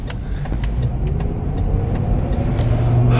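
A 2008 Mercury Grand Marquis is driven gently soon after a cold start, its engine and road noise forming a steady close rumble, with a few faint clicks on top.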